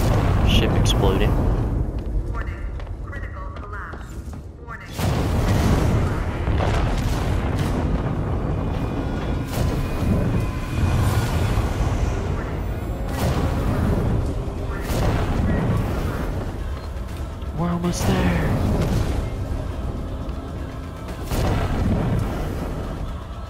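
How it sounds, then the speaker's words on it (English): A ship blowing apart in Alien: Isolation: long, heavy rumbling blasts and booming bursts that roll on at high volume, with someone talking over the destruction. "Just your everyday ship exploding."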